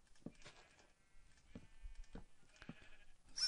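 Sheep in Minecraft bleat several times in short, faint calls spread across a quiet stretch, with no talking over them.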